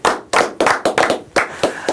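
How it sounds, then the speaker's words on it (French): An audience at a prize ceremony for a winner claps in a run of distinct, close hand claps with a steady rhythm and no speech. "on va, pour ne pas oublier, applaudir notre lauréat"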